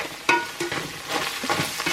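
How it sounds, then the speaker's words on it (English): Close, steady sizzling and crackling of minced meat frying in a pan for cottage pie, with a few sharp scraping stirs breaking through the hiss. "That's the sizzle we're looking for."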